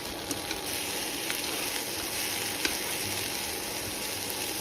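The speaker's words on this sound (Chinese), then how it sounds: "因为芽菜也需要稍微煸炒一下，但是不需要炒得很熟的，让它软一点就可以了" Bean sprouts stir-frying in a hot wok for soy sauce chow mein, a steady loud sizzle throughout with a few faint scrapes and clicks, no talking.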